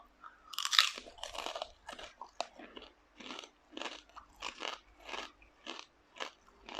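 Crispy pork cracklings from a Yada Boon bag bitten and chewed close up, giving a sharp first crunch and then a steady series of crackly chewing bursts, with no talk over them.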